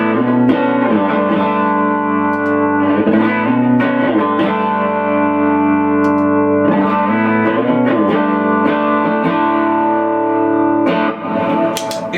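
An electric guitar played through a boost pedal set lightly on a 385, giving a slightly louder, driven, reverberant tone as chords and notes ring out continuously and strongly for the whole passage, with no talking.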